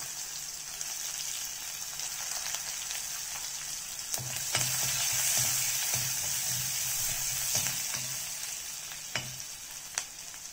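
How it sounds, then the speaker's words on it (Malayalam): Shallots fry in hot oil after mustard seeds for a Kerala pachadi. The sizzle is steady and close, with light stirring scrapes and a few sharp clicks, and no voices. "കടുക് വറുത്തിയ ശേഷം കൊച്ചുള്ളി."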